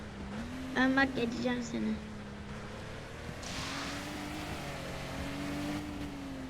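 Video game racing car engine drones steadily in the background with a sustained tone shifting slightly in pitch, under casual talk between players.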